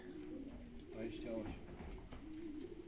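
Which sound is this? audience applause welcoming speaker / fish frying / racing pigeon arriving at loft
racing pigeon arriving at loft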